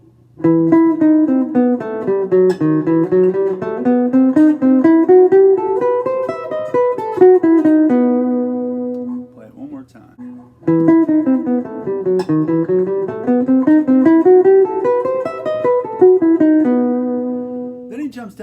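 A slow electric guitar passage from an intro, chords and arpeggiated notes ringing out in two similar phrases separated by a brief pause, played alone without talk.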